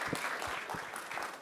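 Church congregation clapping together during a worship service, a steady dense patter of hands sustained throughout the brief moment without speech.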